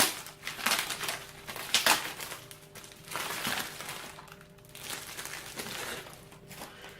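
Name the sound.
plastic cover being removed from a water filter cartridge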